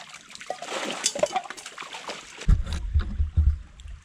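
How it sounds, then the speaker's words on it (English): Camp dishes get rinsed in a creek: irregular splashes and trickling water close by, with a heavier burst of sloshing toward the end. "just washing, you know, your camp dishes out in the creek"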